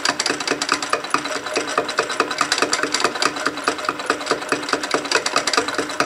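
A sewing machine runs steadily on its own without stitching fabric, a continuous mechanical whir with a fast, even rattle from the moving parts, close and fairly loud.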